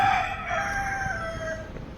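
A rooster crows at a temple in Palakkad full of roosters, one drawn-out, fairly close call that fades over about two seconds against a soft outdoor background.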